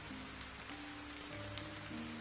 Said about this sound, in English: Suddenly, raindrops begin to fall amidst the sunlight, breaking you out of your beautiful reverie.